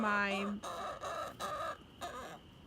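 A rooster crows at the start, then makes several short clucking calls in quick succession, fairly close and moderately loud.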